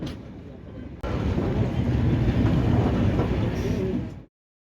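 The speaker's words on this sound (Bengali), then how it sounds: "আধ ঘন্টা আগে ঢুকিয়ে দিয়েছে ট্রেন এনজেপি" A passenger train pulling into New Jalpaiguri (NJP) station, heard as a loud, steady rumble with wind buffeting the microphone, starting with a sudden jump in level and cutting off sharply.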